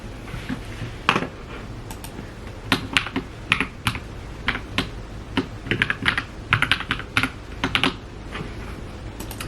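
Typing on a computer keyboard in bursts of quick, close keystrokes with short pauses between runs, no voices.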